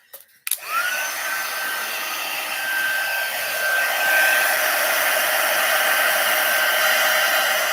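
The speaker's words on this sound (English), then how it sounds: "one more heat emboss" A heat embossing tool switches on with a click and blows hot air onto a stamped card, a steady loud whooshing drone with a thin whine that holds for several seconds.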